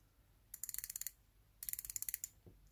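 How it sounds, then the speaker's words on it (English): Pagani Design PD1667 dive watch with a 90-click bezel being rotated: two quick bursts of crisp, evenly spaced clicks, about ten each, close and clear in a quiet room. "I do like the way the bezel is actually clicking."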